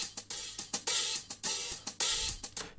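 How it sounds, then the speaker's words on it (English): A bouncy hi-hat loop from an Afro House track, bright crisp hats ticking in a syncopated repeating pattern with a soft low pulse underneath, heard alone. "Hi-hat loops."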